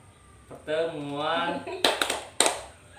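A group chanting then clapping a short rhythmic clap chant during a family-capability meeting session, a drawn-out sung call followed by a few sharp clustered claps, close and moderately loud.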